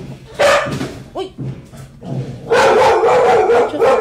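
A dog barks in sharp bursts and lets out a rising yelping howl, loud and close, with a longer run of excited barking toward the end.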